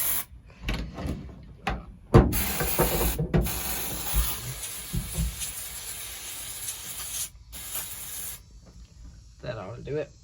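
Bursts of hissing aerosol penetrating oil spray come in several short and long blasts, close by, with some clanks and brief voice sounds between them.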